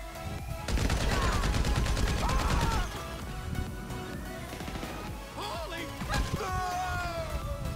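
Rapid automatic gunfire bursts in the GTA 5 Online video game, loud and dense for a couple of seconds, then scattered shots and impacts follow amid game sounds.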